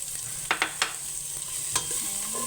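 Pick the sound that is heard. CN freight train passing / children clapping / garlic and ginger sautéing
garlic and ginger sautéing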